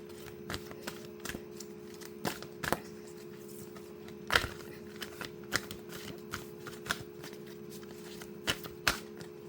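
Tarot cards shuffled and drawn by hand during a reading, a string of soft, quick flicks and slaps at irregular intervals over a faint steady background hum.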